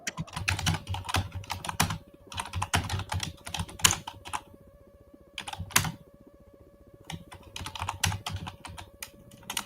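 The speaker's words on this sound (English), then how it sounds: "you can hear my keyboard" Fast, hard typing on a computer keyboard, dense clattering keystrokes in bursts with short pauses, close and fairly loud, no voices.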